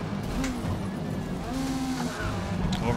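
A touring car's engine revs hard in Forza Motorsport at Watkins Glen, its whining, shifting pitch layered over other racing engines and tyre noise, with a voice faintly underneath.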